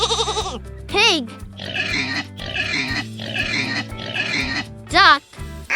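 A pig grunts and oinks in several close bursts over a low background music bed. Brief spoken words come at the start and end.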